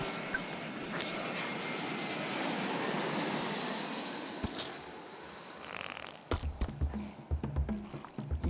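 Airplane flying just after takeoff in a video game, a broad steady engine roar for about six seconds that gives way to scattered clunks and thuds toward the end.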